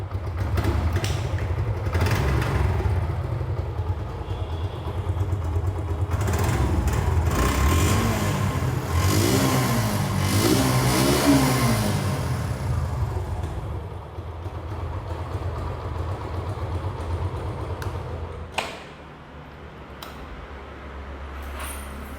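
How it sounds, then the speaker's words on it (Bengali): A 2025 Suzuki Gixxer motorcycle engine runs steadily near the microphone, rising through several revs in the middle before settling back toward idle, then dropping sharply near the end. "আপনাদেরকে এখন ইঞ্জিনের সাউন্ড শোনানো হবে। সরাসরি ইঞ্জিনের সাউন্ডটি শুনুন,"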